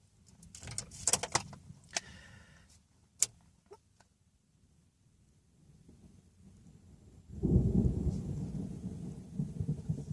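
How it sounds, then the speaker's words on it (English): Thunder crackles and cracks in sharp bursts early on, then a deep rolling rumble swells near the end, with steady rain-like noise throughout. "yeah, you hear the thunder."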